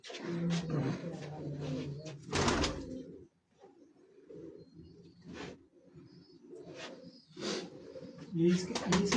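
Rooftop pigeons coo in soft, low, rolling calls, mixed in with people talking nearby.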